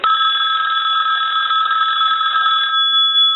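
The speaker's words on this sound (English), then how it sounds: "I want to ring the telephone" A Western Electric 554 rotary wall telephone, tested after a repair and conversion, rings its bell loudly and continuously at close range with a bright metallic trill.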